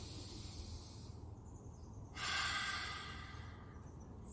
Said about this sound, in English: thank you for taking a moment to breathe with me before we did some yoga today